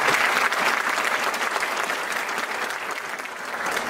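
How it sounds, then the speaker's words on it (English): A seated audience at a university Founders' Week address applauds its panelists. The clapping is steady and dense, filling the room evenly from start to finish. "But another round of applause for our panelists"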